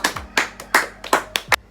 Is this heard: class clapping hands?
yes